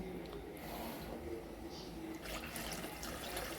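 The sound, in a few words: milk poured into pot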